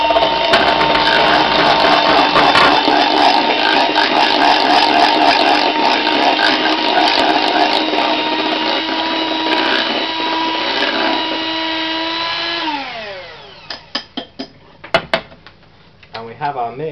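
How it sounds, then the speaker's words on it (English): A blender mixing pancake batter whirs loudly and steadily, its pitch dropping as it winds down, followed by a few clinks and knocks of kitchenware. "Blend that all together."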